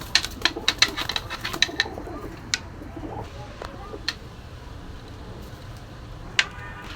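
Young high-flyer pigeons at a Saturday pigeon fair give scattered short, bright calls and clicks, a quick burst near the start and then sparse single notes over a steady low background murmur.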